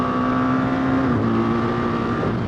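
A 2024 BMW R 1300 GS motorcycle accelerates hard on a test ride, its engine droning steadily and rising through the gears over constant wind rush.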